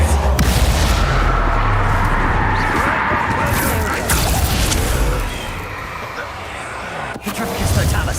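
A Bombarda blasting spell in the Hogwarts Legacy video game, a loud booming explosion with a rumbling, crashing tail amid dense battle noise, fading somewhat before another hit lands near the end.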